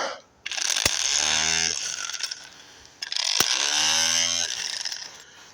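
A 12-volt electric wrench from a car jack kit runs in two bursts of steady mechanical whirring, each lasting about two seconds and starting with a sharp click, the pitch shifting slightly as it spins, close by.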